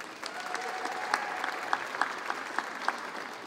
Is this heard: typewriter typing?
no